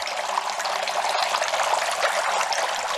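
Water runs steadily from a Veneto tabletop fountain, a continuous close splashing and trickling with no breaks or voices.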